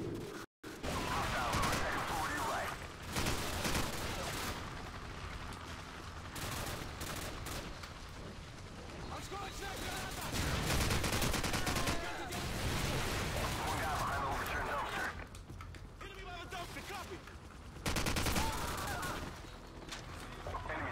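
Gunfire from the Call of Duty 4: Modern Warfare video game, with dense bursts and sustained firing rumbling through most of the stretch alongside battle noise, briefly cutting out near the start.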